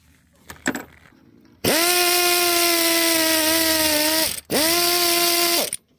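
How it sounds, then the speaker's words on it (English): An air ratchet spins out an alternator bolt on a 2008 Toyota Sienna. A few light clicks come first, then two loud, sustained pneumatic whirring bursts separated by a brief pause, up close in a garage. "Air ratchet will speed things up."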